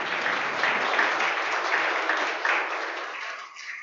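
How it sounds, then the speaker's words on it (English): A room of people at a board of directors meeting gives sustained applause for a colleague, dense even clapping that stays steady throughout and tapers slightly at the end. "I'd like to give Pierre another round of applause"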